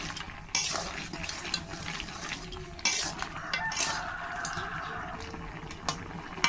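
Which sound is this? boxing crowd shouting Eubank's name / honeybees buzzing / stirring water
stirring water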